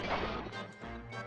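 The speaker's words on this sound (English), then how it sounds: "When they break, they sound like just glass or something." Sprite birds in Disney's Hercules video game shattering like breaking glass, a loud crash followed by brief rattling fragments in a quick, busy burst.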